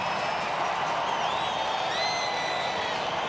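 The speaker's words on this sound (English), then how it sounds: "you hear the roar as their favourites come out here, the Warriors" A large stadium crowd at the Auckland Nines rugby league tournament roars and cheers steadily as the Warriors run out, a broad sustained wall of noise with whistles and whoops rising within it.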